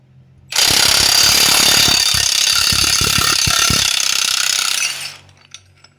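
A ball joint press clamp on a Ford E-Series van is driven hard against the lower ball joint, giving a loud, close, continuous rattling hammer-like burst of about four and a half seconds before it abruptly stops.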